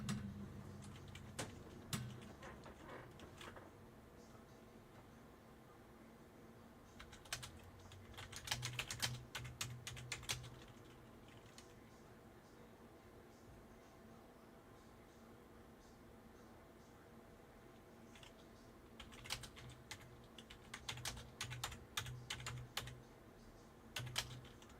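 Typing on a computer keyboard during a live songwriting session: bursts of quick, crisp key clicks arrive in several clusters, quiet and close, with pauses of near silence and a low steady hum between them.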